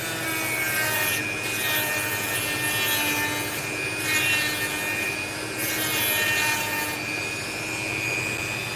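A Dremel rotary tool grinds a large opal stone in the rough shaping stage, giving a steady high-pitched whine with scraping, rasping contact that swells and dips in brief passes, close and loud with no talking.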